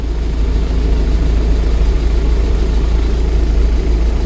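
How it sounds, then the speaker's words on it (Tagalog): Steady low mechanical hum of a Hyundai Getz air conditioning compressor engaging and running continuously, loud and close, with no voices. "maririnig nyo yung tunog ng compressor"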